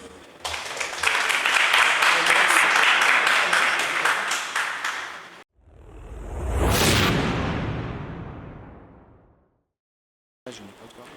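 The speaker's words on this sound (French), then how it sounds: "on applaudit." Applause for Charbel's team in a French quiz tournament semi-final, dense clapping for about five seconds, followed by a loud rising-and-falling whoosh effect, a pause of silence, then a brief return of sound.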